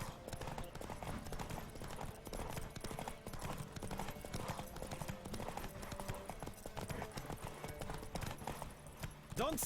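Rapid hoofbeats of a horse galloping in a race in The Witcher 3: Wild Hunt, a steady clip-clop rhythm running throughout with game music and a talking voice layered over it.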